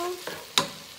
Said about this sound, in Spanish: Y de la salsa que tenemos aquí hirviendo,